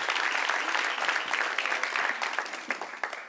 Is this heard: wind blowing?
no